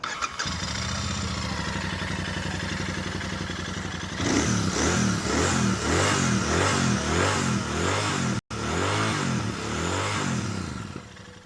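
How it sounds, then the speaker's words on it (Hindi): A Royal Enfield Super Meteor 650 motorcycle cranks and fires up, then settles into a loud, close, throbbing idle with a pulsing twin-cylinder exhaust beat that cuts out for a moment and returns. "एग्जॉस्ट नोट साउंड कैसे करता है वो मैं आपको सुनाता हूँ।"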